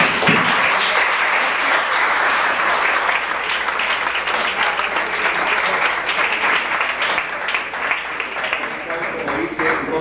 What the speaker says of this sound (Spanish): Aplausos para Rosalía.